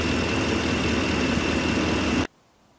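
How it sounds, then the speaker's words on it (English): A Ford F150 pickup's 5-liter V8 idles steadily and loudly up close, a constant broadband engine drone that cuts off abruptly near the end, leaving silence. "Here's a look under the hood. It has a V8 5-liter engine."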